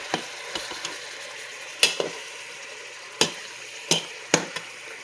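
Meat browning in a hot pan for Texas chili, a steady bright sizzle broken by several sharp scrapes and stirs of a utensil against the pan, close up with no talk.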